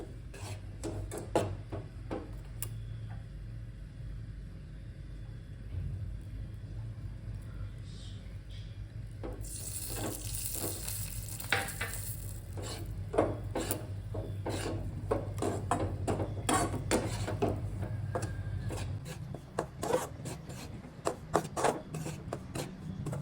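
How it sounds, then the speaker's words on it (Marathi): Besan gram flour roasts in ghee while being stirred for laddoos, with repeated rasping scrapes of a spatula across the pan and a low steady hum underneath. "आता तूप टाकून बेसन पीठ छान पंधरा वीस मिनटं असं छान गुलाबी रंग येईपर्यंत भाजून घ्यायचं"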